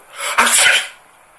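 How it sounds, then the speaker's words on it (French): A single close, loud sneeze: a breathy intake followed by a sharp burst and a short trailing exhale, heard alone in a quiet room. "J'éternue."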